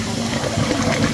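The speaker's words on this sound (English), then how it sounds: "Flush the toilet and get a big rush of water." Water from a flushed toilet rushes loudly and continuously through a basement backwater valve pipe, a close, dense gushing roar over a brief moment.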